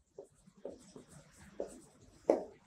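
Pen writing a short note, a handful of quiet scratchy strokes in an irregular rhythm, close and soft, ending in one firmer mark.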